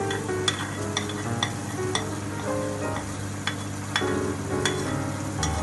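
Cumin seeds and chopped garlic fry in ghee with a steady, close sizzle, broken by the repeated clinks and scrapes of a stirring spoon against the pan.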